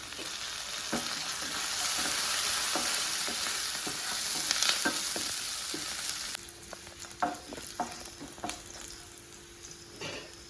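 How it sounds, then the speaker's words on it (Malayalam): Ginger, garlic, green chillies and curry leaves sauté in hot oil for chicken varav, a bright crackling sizzle broken by repeated stirring clinks and scrapes, close up, easing slightly in the last few seconds. "ചെറിയൊരു കഷ്ണം ഇഞ്ചി വരുന്ന വെളുത്തുള്ളി ചേർത്തിട്ട് രണ്ട് പച്ചമുളക് വഴറ്റി കൊടുക്കാം കറിവേപ്പില"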